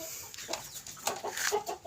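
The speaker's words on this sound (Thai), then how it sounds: "เป็นไก่หนุ่มเลยครับ" A young rooster makes a few short, soft clucks in an irregular rhythm, close by, with quiet background noise.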